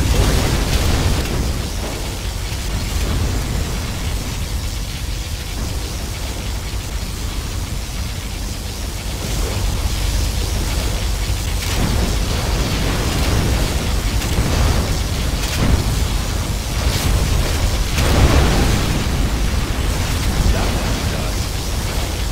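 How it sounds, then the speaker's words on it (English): A sustained, roaring particle cannon blast from a gunship in the game Zero Hours, with heavy low rumble and bursts of crackling noise that swell and fade over about twenty seconds. "Particle cannon activated."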